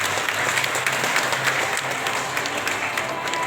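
An audience at an Om Shanti felicitation programme in Kankavli, Sindhudurg, applauds in honour of a respected woman, a steady, sustained wash of many hands clapping from start to finish, with no voices rising above it.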